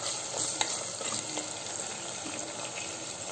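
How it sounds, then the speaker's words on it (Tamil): Onion and green chili sautéing in a pan for mushroom biryani: a steady, close sizzle with occasional stirring scrapes and clinks, no talking. "இப்போ லைட்டாக வதங்கிருச்சு வெங்காயம், பச்சை மிளகாய் ஒன்று போட்டுக்கலாம்."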